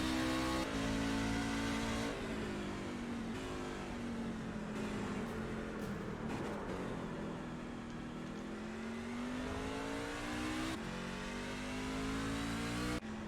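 Race truck engine roaring at Watkins Glen International, a steady loud drone with rising and falling pitch as the truck accelerates and eases, sustained for the whole stretch with no voices.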